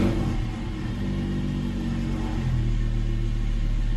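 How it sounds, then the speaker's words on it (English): A VW Jetta engine idles steadily after starting with a key fob, a continuous low rumble that shifts slightly in pitch about halfway through and stays close and loud. "You see, car starts up just fine."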